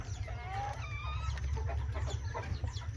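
A small Mini Garnisé bantam rooster clucking nearby, several short throaty clucks and a brief squawking call over a low constant hum, fairly quiet.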